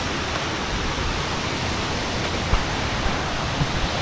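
Banyumala waterfall in Bali roars as a dense, steady rush of falling water, close and loud, without pause for the whole stretch.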